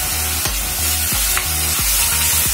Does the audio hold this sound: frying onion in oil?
yes